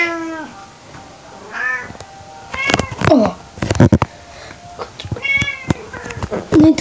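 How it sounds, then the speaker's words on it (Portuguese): Several cats meow at close range, with a person briefly talking between the calls. "Isso é os meus gatinhos."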